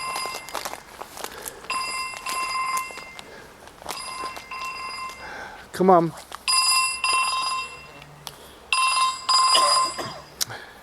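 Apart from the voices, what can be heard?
mobile phone ringing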